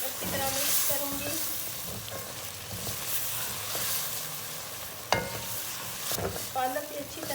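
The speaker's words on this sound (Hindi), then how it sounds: "इसको भी अच्छी तरह मिक्स करूँगी।" Fresh spinach being stirred into chana dal in a frying pan, a soft sizzle with scraping stirs and an occasional clink of the spoon against the pan.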